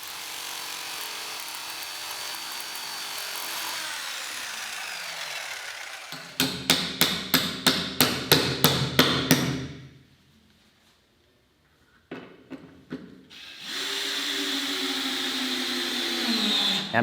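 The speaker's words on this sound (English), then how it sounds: "drilled the mounting holes through the pilot holes into the ceiling" A drill bores mounting holes through pilot holes into a workshop ceiling, giving a series of about nine short, loud, rhythmic bursts, then a pause and more bursts before a steady whine resumes.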